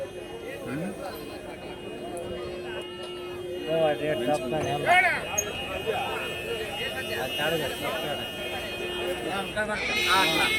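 Goats bleating repeatedly at a busy Monday outdoor livestock market in Rampur, with people talking throughout and several animal calls overlapping at moderate distance.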